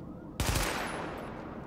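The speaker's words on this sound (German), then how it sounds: "Ich soll auf irgendwelche Ziele schießen" A rapid burst of gunfire during a weapon test in The Division, sharp onset then a dense rattling volley with a lingering echoing tail.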